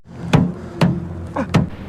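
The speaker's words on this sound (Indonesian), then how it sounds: "Garza pun memberikan sebuah kode yang berupa beberapa ketukan yang unik sebagai tanda kedatangan Garza" Distinct knocks on a door in a film scene form a coded signal, three sharp raps spaced unevenly, with a quicker double tap before the last, heard close against a low hum of background sound.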